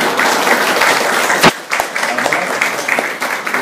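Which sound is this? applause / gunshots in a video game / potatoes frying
applause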